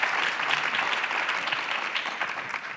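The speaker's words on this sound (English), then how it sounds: "if you can give them a round of applause as we start" Brief, even applause from an audience at the opening of a panel discussion on mental wellbeing and student success, a dense patter of clapping at fairly close range that tapers slightly at the end.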